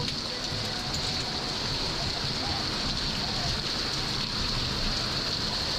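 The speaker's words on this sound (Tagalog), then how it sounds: "Basa na tayo ng ulan." Steady rain pours down in a constant hiss, dense and even throughout, with no pauses.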